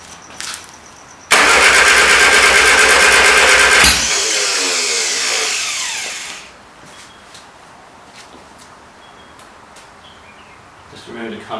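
A Morris Mini Cooper S engine cranks and catches loudly up close, runs hard for a few seconds, then settles and dies away into quiet, with small clicks and rattles afterward.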